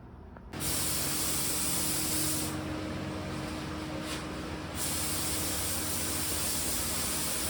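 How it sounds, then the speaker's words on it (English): 2K clear coat sprayed onto a Honda ES6500 generator part, a close, loud continuous hiss that starts abruptly, with brief dips in intensity between passes. "About to put down 2K clear coat on it."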